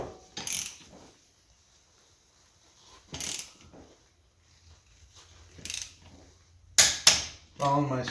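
Torque wrench tightening 18mm wheel nuts to 60 foot-pounds: a few sharp, close ratcheting clicks separated by quiet gaps, ending in a quick cluster of metallic clicks.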